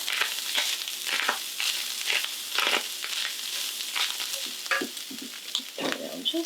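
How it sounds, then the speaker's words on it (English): Beef with fresh garlic sautéing in a pan: a steady close sizzle with repeated scraping stirs and crackly spatters, moderately loud and unbroken by speech. "you just want to saute this around to get your garlic incorporated"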